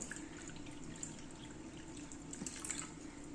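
Water runs into sugar in a pot to make syrup for boondi, a faint, steady trickle and splash heard close in a quiet kitchen.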